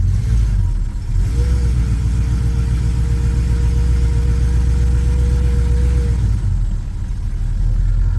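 A 1979 Camaro with an LS engine swap and 4L60 transmission accelerates in fourth gear, its engine a loud steady rumble from inside the car with a rising tone, then easing off near the end.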